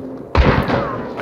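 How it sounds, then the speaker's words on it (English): A single sharp, loud gunshot from a Vetterli 71 Karabiner rifle in the video game Hunt: Showdown bursts out abruptly, then rings off into a short fading echo. "I heard a gunshot."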